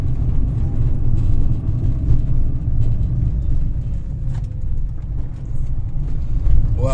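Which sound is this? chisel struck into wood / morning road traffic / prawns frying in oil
morning road traffic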